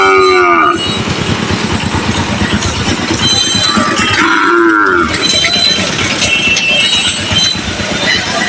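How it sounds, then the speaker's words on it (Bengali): Bull calves, including a Sahiwal calf, moo loudly and close at a busy cattle market, with one long call at the start and another midway, over constant crowd noise. "এই যে ষাঁড় বাছুরগুলো দেখেন কত সুন্দর"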